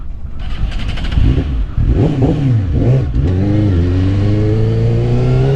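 A Suzuki GSX-R 600 motorcycle engine revs unevenly, pitch rising and dipping as it chokes and stumbles on the throttle, then settles into a steady, rising drone, loud and close.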